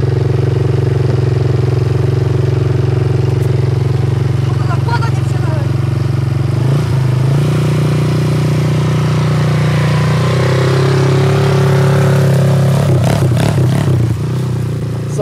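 A quad ATV engine idles and revs in short bursts at close range, with clattering and scraping noises and people talking over it.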